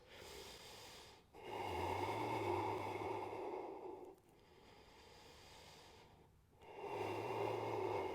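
Slow, audible breaths from a yoga practitioner holding a forward fold, long airy inhales and exhales alternating in a calm rhythm, close and fairly soft with no talking.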